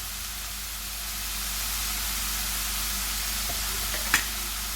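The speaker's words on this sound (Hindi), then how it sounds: "और मिक्स करेंगे अच्छे तरीके से" Vegetables with vinegar and chilli sauce in a pan, a steady hissing sizzle throughout with a couple of faint utensil taps and one sharp clink near the end.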